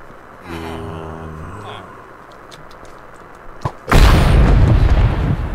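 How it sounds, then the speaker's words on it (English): A heavy boom bursts from Fallout gameplay, one loud close explosion after quieter rumbling and a brief pop, with a blast of low rumble that rolls on afterward. "Finding random explodey stuff."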